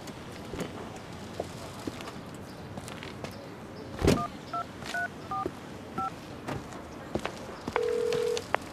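Telephone keypad dialing: a quick run of short DTMF beeps in the middle, then a steady held tone near the end, clear over a quiet room background.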